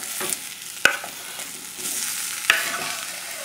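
Green beans and tomatoes stir-fry in a pan over high flame with a steady soft sizzle. Two sharp utensil clacks against the pan land about a second and a half apart, and no one speaks.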